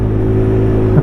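A Sinnis Apache motorcycle engine revs steadily and loud at close range, a continuous droning note that swells slightly near the end of the brief burst, with no talk over it.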